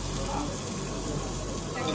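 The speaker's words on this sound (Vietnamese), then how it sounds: "Mình nướng để hết thịt vô nướng rồi mọi người." Meat sizzles steadily on a barbecue grill at a restaurant, a dense continuous crackle close by with faint talk mixed in.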